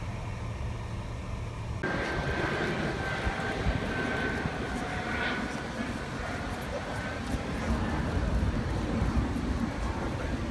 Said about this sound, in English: Airbus started off with the commercial airliners at the Paris Airshow by flying their A321XLR prototype